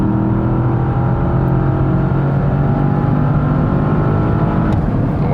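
A 630 hp Porsche Panamera Turbo S sedan accelerates hard on a racetrack, its engine a loud, steady, rising drone heard from inside the car with no voices.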